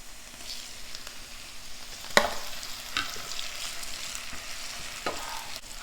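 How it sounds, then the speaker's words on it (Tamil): Onions sautéing in oil in a pan for capsicum rice, a soft continuous sizzle with occasional clinks and scrapes of a spoon stirring, close and steady. "ஆனியனை நல்லா பச்சை வாசனை போகிற அளவுக்கு வதக்கிடலாம் ஆயில்லையே"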